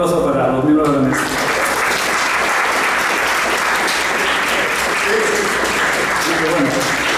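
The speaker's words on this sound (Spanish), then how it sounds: "pido un aplauso para los miembros de la mesa" An audience at a fantasy literature congress applauds the panel members with a loud, dense, sustained round of clapping that follows a brief voice at the start.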